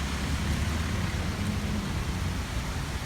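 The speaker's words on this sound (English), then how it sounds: "This rain's getting a bit full on." Heavy rain pours down in a constant, dense roar with a deep low rumble underneath, steady throughout.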